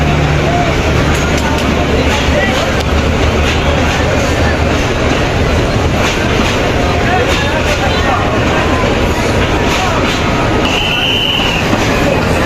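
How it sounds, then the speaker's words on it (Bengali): A crowded train departing Sreepur station for Dhaka, people packed on its roof, rumbles steadily with a continuous rolling, rattling noise, crowd voices faintly mixed in throughout. "ঢাকার উদ্দেশ্যে যাচ্ছে ট্রেনটি, হাজার হাজার লোক নিয়ে যাচ্ছে"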